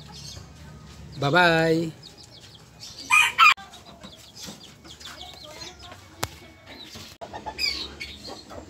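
Month-and-a-half-old Sebright bantam chickens cluck and give short crowing calls nearby, with bursts of bird sound scattered among brief spoken words.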